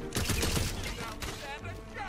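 Gunfire in the video game Tiny Tina's Wonderlands, dense bursts of shots from a weapon firing four rounds per pull, layered over game effects and a player talking.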